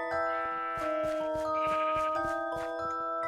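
Sheep bleating in Minecraft, several short pulsing blocky bleats following one another at a steady close level over a constant tonal background, with no talk.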